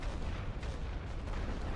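An artillery suppression barrage in The Great War: Western Front video game, heard as a continuous low rumble of distant shelling with overlapping booms and no voices.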